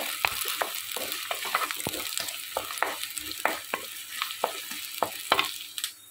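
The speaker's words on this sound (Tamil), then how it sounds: "வெங்காயம் நல்லா வதக்கிக்கலாம்." Onions sauté in a pan, a continuous close sizzle broken by frequent sharp spoon scrapes and taps as they are stirred, with no talking.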